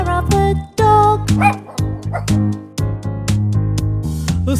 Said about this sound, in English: Barks the dog.